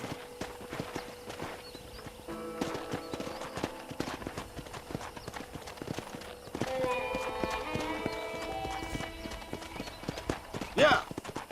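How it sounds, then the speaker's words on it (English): Horse hooves clip-clop as a rider trots around a ranch in Red Dead Redemption, a steady rhythm with a faint whinny, under light talk and background music. "let's see if you can still ride a horse"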